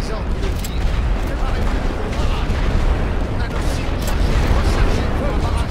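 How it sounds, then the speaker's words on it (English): Artillery bombardment in Elite Great War Western Front, a steady loud barrage of overlapping booms and crackling blasts rolling without pause. "Constant bombardment."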